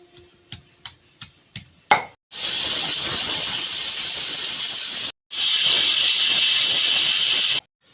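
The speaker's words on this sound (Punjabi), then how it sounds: "ਤਿੰਨ ਸੀਟੀਆਂ ਲੱਗ ਗਈਆਂ ਨੇ ਚਣਿਆਂ ਨੂੰ" A pressure cooker cooking chickpeas releases steam in two loud, sustained hissing whistle bursts, each lasting a few seconds, after some faint clicks and taps.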